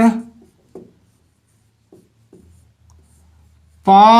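Numbers written by hand during a class 6 maths lesson: soft, faint pen strokes in short scratches during a quiet pause, with a voice speaking before and after.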